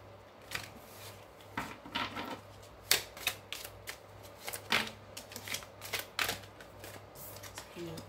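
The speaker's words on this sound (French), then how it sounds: "Alors, j'ai toutes les cartes qui tombent." Tarot cards laid down and shuffled one after another on a table, a steady run of soft slaps and papery flicks, close and moderately loud, with a faint voice in the background.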